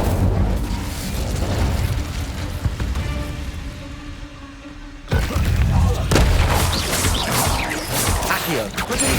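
In Hogwarts Legacy, an Incendio fire spell is cast as a loud roaring burst of flame that rumbles on for several seconds, dips, then surges again in a heavy fiery whoosh.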